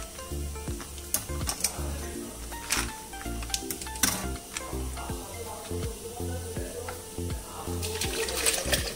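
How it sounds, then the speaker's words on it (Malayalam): About half a litre of chilled milk pours into a mixer jar holding raw mango, a soft, continuous liquid stream with small clinks and bumps. The sound is close and quiet throughout. "ഇനി നമുക്കൊരു 1/2 ലിറ്റർ പാല് തണുപ്പിച്ചത് ഒഴിക്കാം."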